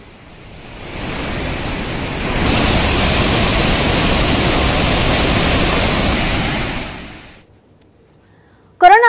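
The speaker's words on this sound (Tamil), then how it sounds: "இதனால் ஒகேனக்கல் அருவிகளில் நீர் ஆர்ப்பரித்துக் கொட்டுகிறது." Water roars down the Hogenakkal falls in Tamil Nadu, swollen by a river flow of 15,000 cubic feet per second. A loud, steady rushing wash swells and holds for several seconds, then cuts to near silence.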